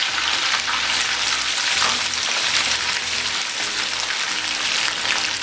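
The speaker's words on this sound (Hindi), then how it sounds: "अब इसमें 2 टीस्पून अदरक लहसुन का पेस्ट शामिल करेंगे।" Chicken pieces fry with ginger-garlic paste in a karahi, giving a steady, loud, close sizzle with brief stirring scrapes throughout and no talking.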